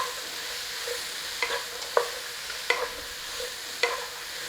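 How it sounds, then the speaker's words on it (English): Food being stirred in a hot pan with chips added, a soft steady sizzle under several distinct spatula scrapes and knocks spaced about a second apart, close up with no one speaking. "You can give it a stir."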